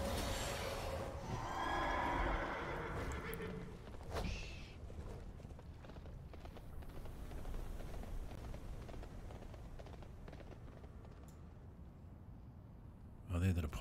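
A horse in the World of Warcraft game, in the Dragon Isles, gives a neigh at the start, followed by hoof clip-clops and game ambience, with someone talking.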